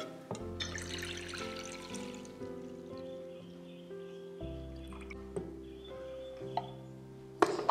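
Orange juice pours into a glass in a kitchen, a soft trickling stream with faint drips and clinks over a quiet musical background, no voices.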